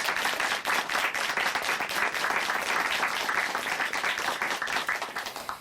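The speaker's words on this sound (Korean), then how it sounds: "다시 한번 큰 박수 보내드릴게요" A congregation at a Korean church broadcast applauds warmly after a testimony, with dense, sustained clapping that stays full and even for several seconds before easing off.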